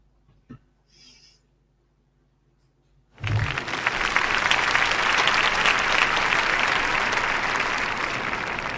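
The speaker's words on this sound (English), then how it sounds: "the applause is a nice touch" An applause sound effect follows a tech talk: after a few faint bumps and near-silence, a full crowd of clapping bursts in suddenly and holds loud and steady to the end.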